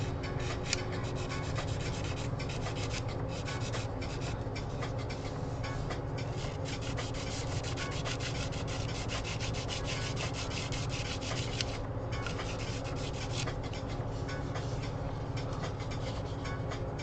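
Close sanding of small burrs off plastic model kit parts for an Elden Ring Ranni figure: a continuous, steady rubbing and scraping that keeps a dense, even texture from start to finish, with no voices.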